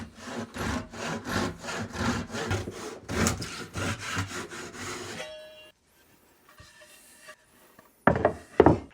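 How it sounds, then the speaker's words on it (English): A handsaw cuts through a thin strip of wood in about a dozen quick rhythmic strokes, then falls quiet before a few final scraping rasps, close up with no talk. "a handsaw will cut through it very easily"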